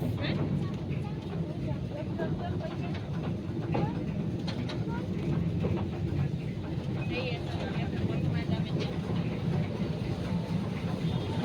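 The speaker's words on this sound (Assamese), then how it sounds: "আমাৰ জায়ান ফাৰ্ষ্ট টাইম ট্ৰেইনত উঠিছে গাইজ" A passenger train ride carries a continuous low rumble and rattle of the carriage rolling along, with voices talking over the steady noise throughout.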